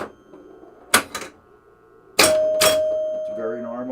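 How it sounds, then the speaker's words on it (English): Flippers on a Williams Skylab pinball machine with the glass off, giving two pairs of sharp metallic clacks, then a ringing tone held under a voice. "Flippers will make that noise with the glass off."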